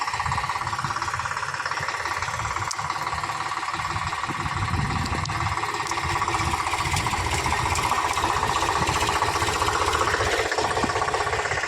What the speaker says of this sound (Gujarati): જો દોસ્તો નીકાળવા માટે તૈયાર થઈ ગયું ટ્રેક્ટર